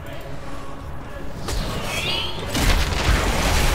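A fort being destroyed in the video game Heroes of the Storm, with a rumbling crash and deep boom swelling over a dense battle din, loud and full.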